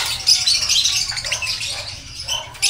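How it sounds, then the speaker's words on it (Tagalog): Caged birds for sale chirp and tweet close by in quick, busy bursts over a low background hum, with no talking. "Ganda ng mga ibon."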